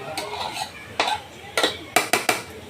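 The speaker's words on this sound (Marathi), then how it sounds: "आता ह्याला मी झाकण मारून ठेवणार आहे" A metal lid is set onto a pot of roasted semolina in a home kitchen, giving several sharp clanks and rattles one after another, close by and fairly loud with no talking.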